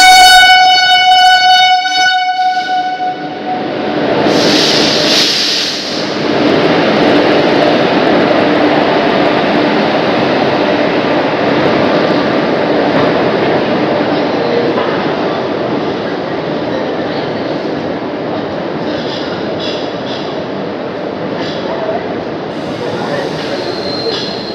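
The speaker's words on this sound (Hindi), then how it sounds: "करीब 9:10 पर हमारी ट्रेन को प्लेटफॉर्म पर लगाया जा रहा है।" An Intercity Express train rumbles into a station platform in India with a loud continuous roar of wheels and carriages, a horn blast at the start and a brief high squeal, steady and close throughout.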